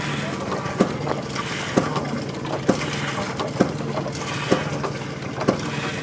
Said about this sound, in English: With a hot air engine?